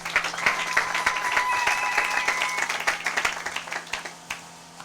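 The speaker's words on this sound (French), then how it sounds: "Acclamez pour la gloire d'Éternel notre Dieu." A church congregation claps together in steady, dense applause that starts at once, holds for several seconds, then thins into scattered claps as it fades.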